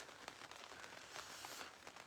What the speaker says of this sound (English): It is starting to rain. I am under the awning.